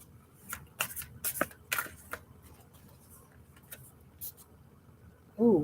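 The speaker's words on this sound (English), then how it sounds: "I'm going to pull a couple cards and see what's going on with the collective." Tarot cards are shuffled in several quick riffling bursts that are close and fairly faint, with gaps and soft handling noise between them and a brief louder thump at the end.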